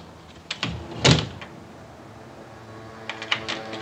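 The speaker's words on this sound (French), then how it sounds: "ça ouvre des portes, ça ouvre des fenêtres, ça referme la porte." A door closing in the 1967 French film Le Samouraï, heard as a sharp thump with a short rattle near the start, followed by quiet room tone and a few faint clicks toward the end.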